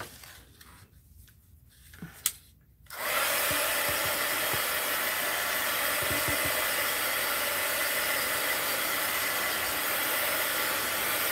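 A heat tool or dryer switches on and blows steadily, loud and close, drying a mixed-media art journal page, after a few seconds of quiet handling sounds.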